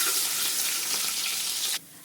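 Steady, close sizzling and crackling of dry red chilli and bay leaf tempering in hot oil with crushed ginger-garlic paste, cutting off abruptly near the end.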